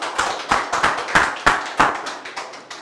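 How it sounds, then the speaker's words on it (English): Loud clapping from a small group during a spoken English class, heard as a handful of sharp, distinct claps in a loose rhythm, close by and not overlapped by speech. "give him a big round of applause"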